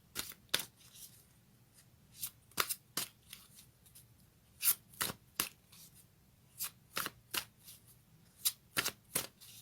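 Fairy tarot cards shuffled by hand, a steady run of crisp riffling snaps and soft flicks in irregular bursts, close and fairly quiet with no talking.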